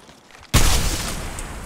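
Gunfire in the mobile shooter Apex Legends Mobile erupts suddenly after a quiet moment: a dense, loud burst of shots that stays heavy and sustained to the end.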